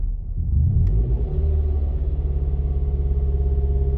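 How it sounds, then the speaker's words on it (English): Mazda 3 engine revving while parked with the hood up, a close, low rumbling drone that swells early and then holds at a steady, throbbing idle-like pitch. "I'm gonna give it some gas."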